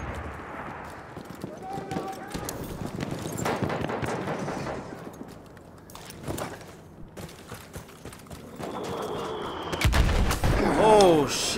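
A horse gallops through gunfire in the first-world-war shooter Battlefield 1, with crackling shots and hoofbeats mixed with game noise and an excited voice talking over the action.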